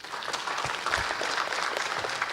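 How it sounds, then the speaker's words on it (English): An audience applauds panelists at a debate on global Islamic finance, steady close clapping from many hands throughout with no talk over it. "a round of applause once again to all the panelists here"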